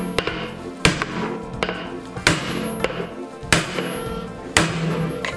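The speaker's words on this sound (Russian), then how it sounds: "Выбивается барабан из бака обязательно через медную прослойку" Washing machine drum knocked out of its tub with blows struck through a copper spacer: five or six heavy metallic hammer strikes at a steady pace, close and loud, with a ringing drum resonance between hits.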